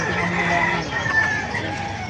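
Chickens cluck and murmur together at a market in Bocaue while a rooster's crow rises faintly among them, a busy steady flock sound close by.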